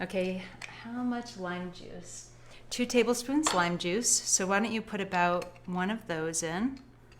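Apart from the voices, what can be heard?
No distinct noise like a dog, phone or traffic.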